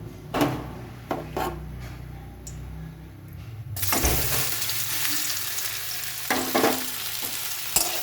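Okra for bhujia dropped into hot oil, a few taps and clatters, then a sudden loud close sizzle that holds steady with occasional stirring scrapes.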